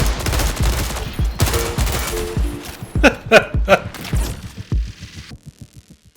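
Gunfire from the BR33 Volley Rifle in the shooter game Marathon, sounding as loud rapid bursts of shots, with a tight cluster of sharp cracks midway that thins into fainter pops and then quiet.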